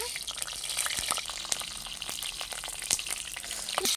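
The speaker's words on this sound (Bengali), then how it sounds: "কড়াইয়ের মধ্যে দিয়ে দিলাম তেল, দিয়ে দিলাম শুকনো লঙ্কা," Dried red chillies fry in hot oil in a wok, giving a dense crackling sizzle with scattered sharp pops throughout, close and continuous.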